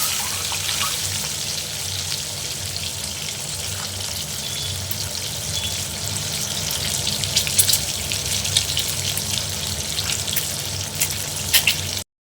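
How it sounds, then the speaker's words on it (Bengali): Halved boiled eggs fry lightly in a pan with a steady, moderate sizzle and a few brief clinks near the end, no speech. "বেশি লাল করবো না, অল্প অল্প ভাজবো।"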